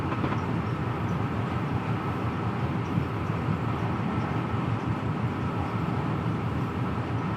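A freight train running on the Trent Valley line near Stafford in Train Simulator Classic, giving a steady, continuous low rumble and rolling rail noise throughout, close and even, with no talk.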